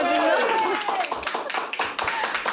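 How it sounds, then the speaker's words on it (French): Clapping greets rugby world champions, scattered and fairly close, thinning out over a couple of seconds while voices talk over it. "On ressort les drapeaux pour vous et les applaudissements."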